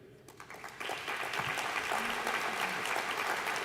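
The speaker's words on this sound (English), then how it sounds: "please stand and we'll applaud and honor your participation and your work" Audience applause honoring a named participant at the 2024 Ronald Reagan Presidential Foundation Scholars Program ceremony, a steady, dense clapping that swells after the first second and continues evenly to the end.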